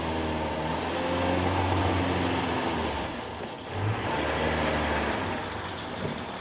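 A vintage Simca Ariane sedan cruises along a road after a long cold winter, its engine a steady low drone with rolling road noise and a brief dip in the middle, heard alone without talk.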